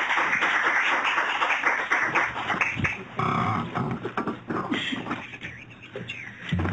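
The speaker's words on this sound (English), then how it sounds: "So I ask you to give a round of applause" An audience at a hospital medical grand rounds lecture applauds to welcome a speaker. The clapping is dense and steady, fills several seconds and fades unevenly toward the end.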